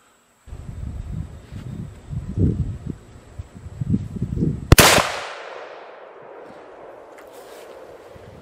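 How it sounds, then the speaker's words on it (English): A Remington 770 rifle with a Boyd stock fires a single 300 Win Mag sabot round, one sharp, loud report after rustling handling noise, followed by a long fading echo outdoors. "this is my Remington 770"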